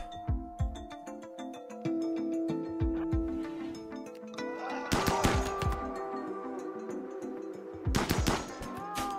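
Gunfire in the video game RimWorld during a fight on a glacier, with sharp loud shot bursts around the five- and eight-second marks over steady game music.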